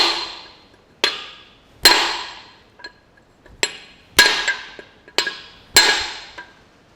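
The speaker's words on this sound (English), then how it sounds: "I've got a big tapered punch, and I'm just going to give this a bit of a help along." Hammer blows strike a big tapered steel punch to drive out the dry cylinder liners of a Massey Ferguson 65 tractor engine, about eight sharp metallic clanks at uneven intervals, each ringing briefly, close and alone with no talk.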